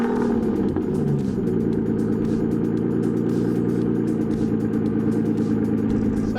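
Ford Focus RS engine drives off, a steady mid-pitched hum with rising harmonic tones as the car pulls away, heard close and fairly loud without talk.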